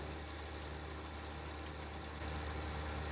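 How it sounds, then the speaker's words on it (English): A tractor in Farming Simulator runs at a steady drone while pulling a Great Plains 3S3000HD no-till seed drill, the low engine note constant and slightly louder toward the end, with no talking. "let's go ahead and just run the tractor right down the middle of this ridge marker"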